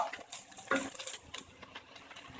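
A spoon stirs softened onions and hing in a pan for dal khichdi, giving faint, close scraping and light clinks in an otherwise quiet kitchen.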